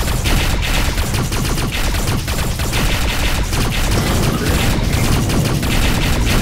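Rapid, dense bursts of a scatter turret blasting nonstop in the space combat game Rebel Galaxy, loud and close, a continuous crackling barrage of shots with no talk.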